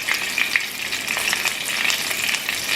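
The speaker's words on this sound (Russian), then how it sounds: "Выкладываем на сковородку котлетки и, конечно, стряхиваем лишнюю муку," Chicken cutlets dusted in flour sizzle and crackle steadily in vegetable oil in a frying pan, a close, continuous spatter with no voices.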